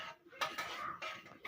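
Pots and utensils clink and scrape in a home kitchen while banana milk sheera is cooked, a few short metallic knocks and stirring sounds at close range.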